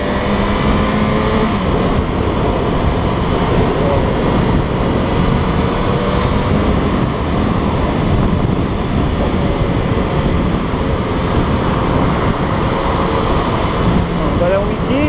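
Loud, steady tire rumble from an XJ6 car rolling over grooved asphalt, with a rhythmic droning hum, continuing without a break.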